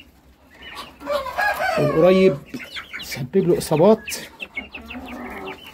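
Chickens clucking and squawking up close after a weasel attack, agitated calls rising and falling in bursts, with someone speaking briefly among them.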